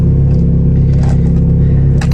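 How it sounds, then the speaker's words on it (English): Cold start of a 300 hp coupe at midnight: a steady, loud low engine rumble settling into idle, close by, with a light clatter and no talking. "let's hear this cold start"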